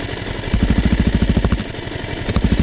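A motorcycle engine runs close by at a low idle with a steady, even rhythm of quick thumping pulses.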